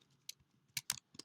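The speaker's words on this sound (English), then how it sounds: "I'm having a hard time typing," Computer keyboard keys clicked in a few short, quiet bursts with pauses between, close by and alone.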